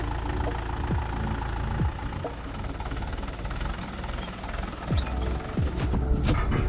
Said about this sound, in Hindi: अब पापा ट्रैक्टर निकाल रहे हैं